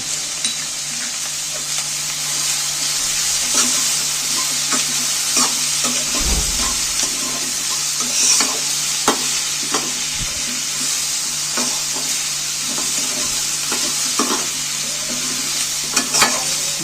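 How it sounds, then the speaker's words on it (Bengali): Garlic and ginger paste frying in a pan for chicken momo, a loud continuous sizzle with frequent scraping stirs and light clinks throughout, no voices. "সেই দূষণ বাটাটাও দিয়ে দিন আদাটাও দিয়ে দিন"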